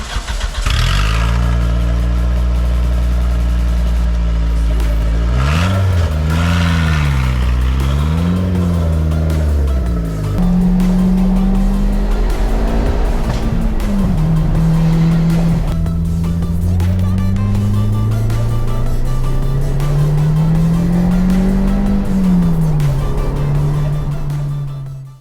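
A Toyota MR2 Spyder with a swapped-in V8 engine starts and revs, then accelerates hard through several gears, its loud engine note rising and falling repeatedly over about 25 seconds.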